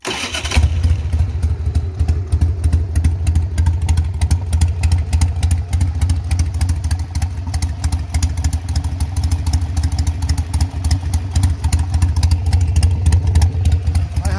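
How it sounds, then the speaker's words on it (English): A Harley-Davidson Sportster 883 with a faulty ignition, prone to black smoke and backfiring, starts and then runs loud and close with a rough, pulsing, clattery beat held for about fourteen seconds. "The engine runs. Let's start it and see how it sounds."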